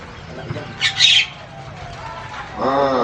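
A bird gives a brief squawking call, followed later by a warbling series of chirps over faint background noise, at a bird-singing contest.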